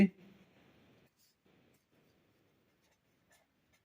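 Chalk or marker writing on a board during a simple pendulum physics lesson, soft scratchy strokes in short bursts after a brief initial knock, faint and close.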